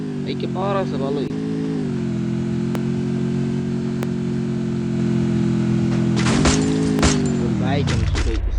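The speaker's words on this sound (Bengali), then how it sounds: "বাইক আমি ছুটাইতেছি" A motorbike engine in a video game holds a steady mid-pitched drone, with a pitch shift partway through and a falling note at the end, while a person talks excitedly over it.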